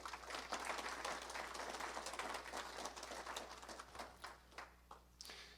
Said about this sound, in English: A round of applause for each and every one of you, please.